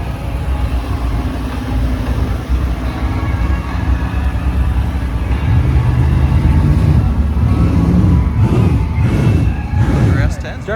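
Trucks run at 81 Speedway, a deep engine rumble that swells into louder revving passes partway through, with a steady roar throughout.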